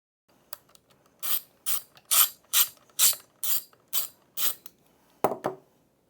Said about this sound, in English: Using a 5/32 Allen, you will remove the 4 bolts holding the inner channel to the outer channel.